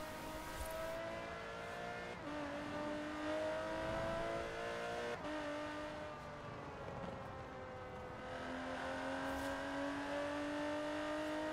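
A car engine in the racing game Forza Horizon 4 hums steadily and shifts pitch through gear changes as the car speeds along, fairly quiet with no talking over it.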